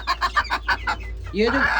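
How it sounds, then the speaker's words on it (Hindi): Hens cluck in a quick run of short, close calls, followed by a rising squawk, with faint background noise. "ये आपको पीछे से शोर ज़्यादा आ रहा होगा, ये वाली मुर्गी शोर करती है"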